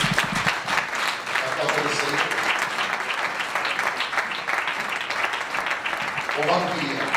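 A church congregation applauds steadily and loudly throughout, a dense wash of clapping from a large crowd with no pauses.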